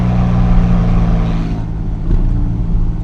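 A 2023 Porsche Cayman GT4 RS Weissach engine hums at partial throttle from inside the car, a steady low drone that dips briefly and then swells again.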